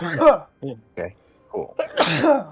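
A single sneeze bursts out amid people chatting around a table during a tabletop role-playing game session, close and brief between stretches of conversation.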